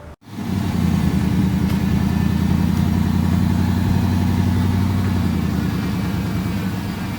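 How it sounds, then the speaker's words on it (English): A Mustang drift car with a swapped 4V V8 engine doing donuts and a burnout in a parking lot, its loud engine holding a steady, rough, high-revving drone close by from start to finish. "I'm going to insert a clip right now of me doing some donuts in the parking lot, doing a little burnout in the drift stang."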